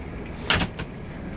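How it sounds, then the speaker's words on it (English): A door is opened with a short rattling scrape and clunk, close and moderately loud against a low room hum, with a softer knock just after. "Gotta get the door."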